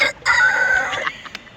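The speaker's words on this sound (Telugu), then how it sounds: "దేశీ ముర్గా పాడి ముర్గా." A desi hill rooster near Dehradun gives a single loud, close crow with a sustained middle note, followed by a few sharp clicks.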